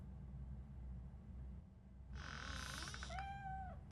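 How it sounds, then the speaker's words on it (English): In the video game RoboCop: Rogue City, a low ambient hum runs under a sudden close cat meow, followed by a drawn-out second meow that slides in pitch. "There he is. Oh gosh, Fortune. You look a mess. You think he's all right? The cat is fine"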